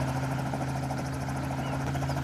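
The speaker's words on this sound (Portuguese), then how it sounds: "Tô aqui de helicóptero." A video game helicopter in Mad City drones steadily with a rapid rhythmic rotor chop and a low engine hum, close and continuous.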